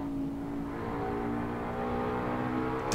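Race car engine in a racing video game drones at a steady, fairly loud pitch with a gruff, buzzy tone, swelling slightly before a brief sharper burst at the very end.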